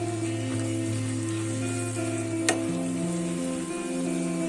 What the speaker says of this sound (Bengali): কড়াশুঁটি দিয়েও আমি আর একটু নাড়িয়ে নিচ্ছি